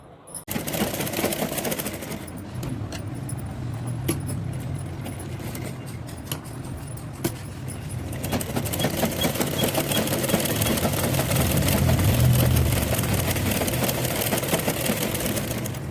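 A sewing machine stitches lace onto blouse sleeves, a continuous mechanical whir with rapid needle ticking that runs throughout, growing louder and fuller in the second half.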